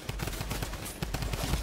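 Rapid, evenly spaced bursts of automatic fire come from a drum gun in the video game Fortnite, dense and loud throughout a short stretch with no pause.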